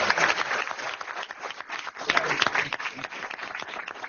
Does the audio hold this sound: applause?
yes